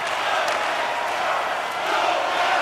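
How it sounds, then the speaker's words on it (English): A dense arena crowd at an ice hockey game roars continuously, a loud, sustained wash of cheering and shouting during a tied game between HC Sparta Praha and HC Vítkovice Ridera. "You can feel the energy in this crowd."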